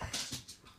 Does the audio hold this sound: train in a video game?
no